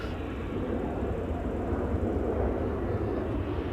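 A KLM airliner at Schiphol's Polderbaan gives off a faint, distant, steady engine rumble, low and unbroken throughout.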